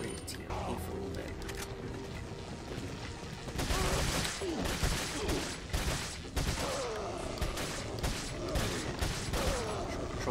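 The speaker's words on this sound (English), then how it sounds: "Control burst, don't need to use a lot of TMP ammo." Burst fire from a TMP submachine gun in the Resident Evil 4 video game, short controlled bursts of rapid shots repeating throughout over game sound, with a voice talking along the way.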